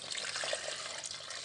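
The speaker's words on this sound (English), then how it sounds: "So after then, I'm going to pour the banga inside" Brief, soft pouring of banga palm fruit liquid into a cooking pot, a faint watery splash lasting about a second and a half with no voices.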